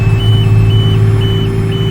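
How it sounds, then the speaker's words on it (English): Repeated high electronic warning beeps from a tractor and baler while haying, in a steady on-off rhythm over a loud, constant engine drone. "that's what that beeping in the tractor is"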